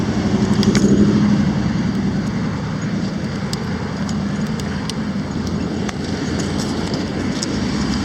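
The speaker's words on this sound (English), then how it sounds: "Nice cars" Traffic on a street in Venice Beach, Los Angeles, a steady broad roar of passing vehicles, loudest near the start and then holding as a continuous nearby wash with no talk.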